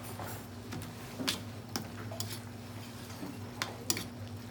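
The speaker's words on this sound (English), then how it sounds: "We're going to toss this in our stir fry sauce, and we're going to cook this on high heat" Chicken, vegetables and noodles stir-fried in sauce over high heat, a soft sizzle with occasional sharp utensil taps and clicks against the pan.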